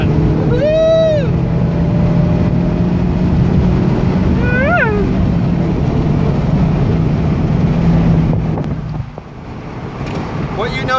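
Mazda MX-5 ND Miata taking a turn on an autocross-style drive, its engine a loud steady drone close to the microphone with wind buffeting, brief vocal exclamations over it, and the note easing off near the end.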